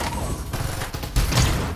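Rapid, dense gunfire from a Farlight 84 team deathmatch battle, a continuous close burst that swells louder in its final half, with no talking.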